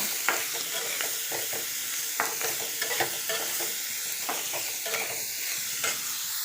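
Onions fry over a low flame for a paneer dish, giving a steady close hiss with repeated spoon scrapes and stirring clicks throughout.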